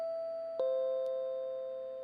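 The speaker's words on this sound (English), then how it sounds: "Someone's ringing my doorbell." A doorbell in the video game Chasing Tails rings with a clear two-tone ding-dong chime, sustained and fading, fairly loud and alone with no talk.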